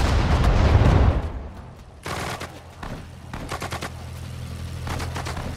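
Gunfire from a Sudden Strike 4 World War II battle at Sedan, with a loud burst of shots and blasts at the start, then scattered sharp reports and rattling volleys over a steady low rumble.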